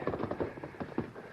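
Horses' hooves clop and shuffle as riders rein their mounts to a halt on the trail, a dense cluster of uneven thuds with no clear steady gait, set against a busy background.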